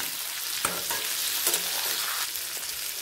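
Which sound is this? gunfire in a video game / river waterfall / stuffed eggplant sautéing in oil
stuffed eggplant sautéing in oil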